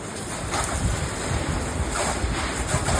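A pressure washer sprays hot water onto a kitchen exhaust hood in a steady, broadband hiss with a few brief surges, loud and close.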